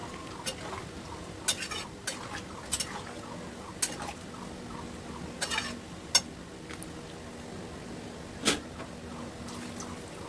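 Vegetables that were fried earlier are stirred in a pot of water for Bengali shukto, with a spoon scraping and clinking against the pot in scattered short knocks over a low, steady kitchen background.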